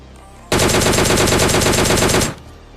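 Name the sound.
gunfire in the video game PUBG Mobile Lite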